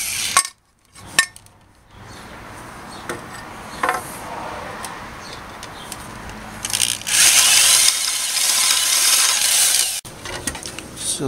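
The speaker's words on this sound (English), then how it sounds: "I'm just gonna drill 4 holes for the 1/4 inch nuts and bolts that I'm gonna use." A power drill bores holes for quarter-inch nuts and bolts on a ceiling fan wind turbine build. After a few knocks, a sustained close grinding whir runs for several seconds, then stops abruptly.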